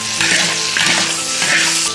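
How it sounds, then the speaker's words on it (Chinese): Chinese shallot heads with pickled chili stir-fry in a hot wok, a close, loud sizzle with rhythmic bursts as the food is tossed. "先放这浇头老壳炒一下。"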